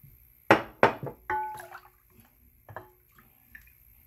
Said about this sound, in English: Now we are going to put our evaporated milk.